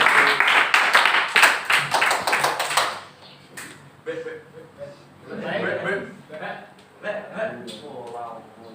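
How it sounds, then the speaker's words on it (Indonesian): A classroom of students claps for two student groups in a burst of quick, close handclaps lasting a few seconds, with some laughter, before it gives way to people talking. "Tepuk tangan buat dua kelompok."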